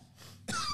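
A single short cough bursts out near the end after a quiet stretch, close and fairly loud, at an open mic comedy show.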